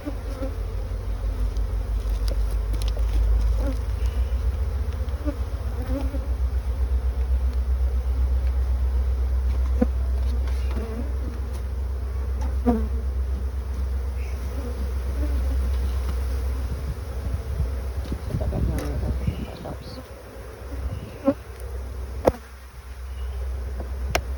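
A dense, steady buzz of many honey bees around hive frames fills the air close by, with occasional knocks and a low rumble underneath.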